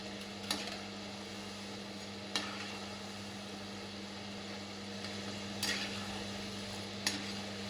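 Kodubale frying in oil over a medium flame give a soft, steady hiss. Four sharp clinks of stirring cut through it at irregular moments, and the whole sound stays fairly quiet with no voices.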